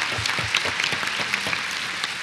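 Audience clapping at a church event, a dense steady patter of many hands at moderate level with no talk over it.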